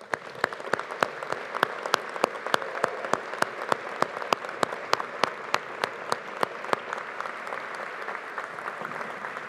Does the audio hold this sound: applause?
yes